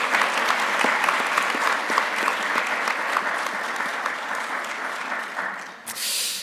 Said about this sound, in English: let's give one last round of applause to all our students' presentations